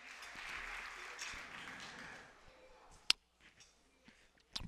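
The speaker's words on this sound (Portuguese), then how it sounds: "Uma salva de palmas para a UERJ" Audience applause at an event against LGBTI discrimination, applauding a university: soft, fairly distant clapping that fades after a few seconds, followed by a few isolated claps and clicks.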